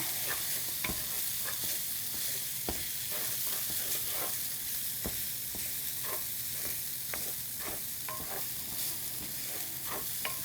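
Cooked quinoa sautéing in a pan, stirred with a wooden spoon, giving a steady hiss with repeated light taps and scrapes throughout, near and with no voices.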